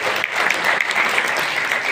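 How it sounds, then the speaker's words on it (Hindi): A gathering at a farming event claps loudly to welcome a speaker, a steady dense burst of applause filling the whole moment, close and continuous. "जोरदार तालियों से अभिनंदन करते हैं।"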